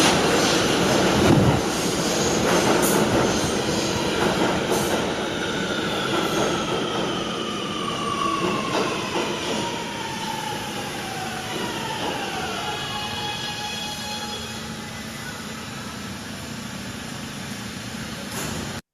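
New York subway R211A train pulling into Hoyt Street, a loud rolling rumble of wheels on rails with sweeping metallic squeals and falling brake whines as it slows, steady and close throughout.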